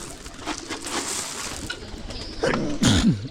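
Pigeons coo close by in an outdoor feeding spot in Africa, soft rolling calls near the end against a background hiss, with faint flutters and no talk.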